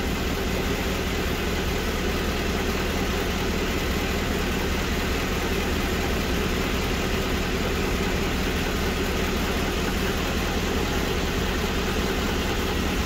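A Mercedes W204 C63 AMG 6.2-litre engine idles steadily and loudly, an unbroken low rumble with no talk over it.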